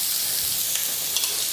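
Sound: searing food in a hot pan, garlic spinach dish

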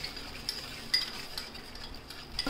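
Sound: stirring sauce into chicken 65 in a pan

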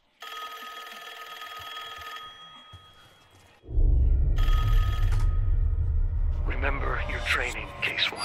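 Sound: telephone ringing in the video game Call of Duty Black Ops 6

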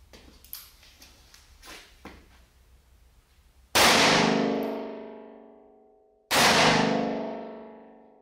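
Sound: 357 Magnum hollow point rounds fired at armor

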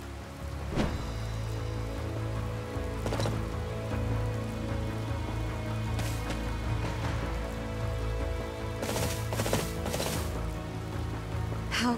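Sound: rain in video game Fire Emblem Three Houses

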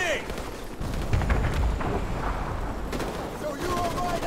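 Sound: gunfire at balcony in Call of Duty Modern Warfare Remastered video game

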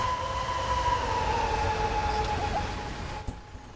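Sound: BR 218 diesel locomotive engines starting, video game Train Sim World 4

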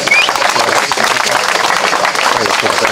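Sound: applause for street fighters

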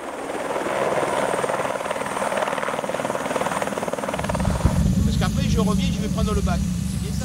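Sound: Écureuil helicopter flying firefighters

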